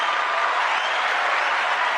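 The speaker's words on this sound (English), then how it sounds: "we're gonna have to chill out with the applause button" Canned applause sound effect triggered from a soundboard button, a steady dense wash of clapping and cheering held at even loudness throughout, with no talking over it.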